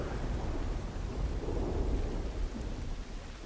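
Thunderstorm with steady heavy rain and rolling thunder in the video game The Last of Us Part I, a continuous loud low rumble with rain hiss running throughout, no talking.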